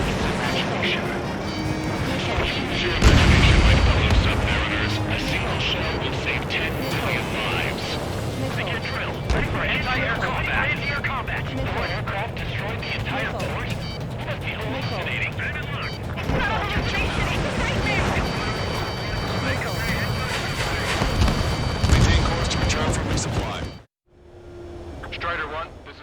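Heavy airstrike explosions rumble and crash continuously in the Ace Combat 7 flight game, loud booms layered over dense combat noise with radio voices talking throughout, ending in a sudden cut to near silence.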